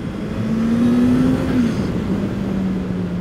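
A custom-built turbocharged Honda CBR900 motorcycle makes about 200 hp and is revved hard close up. A loud engine note sweeps up and holds, then eases back to a steady high drone, with no talk over it.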